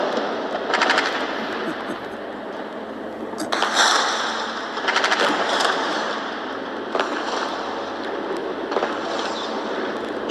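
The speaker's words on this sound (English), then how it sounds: "Should I lower the gun shooting?" Machine-gun fire from a live stream set in Gaza crackles in several rapid bursts at a distance, with rattling volleys repeating every second or two over steady background noise.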